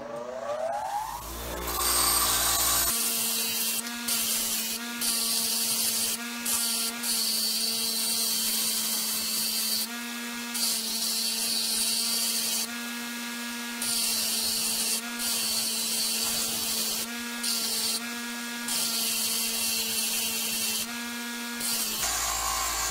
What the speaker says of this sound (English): I got my air chisel